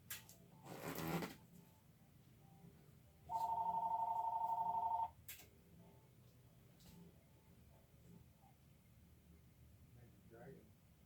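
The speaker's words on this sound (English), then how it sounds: "Hang on, my phone's ringing." A phone rings once in a short, bright electronic trill lasting under two seconds, fairly close, between quiet handling noises and a brief rustle.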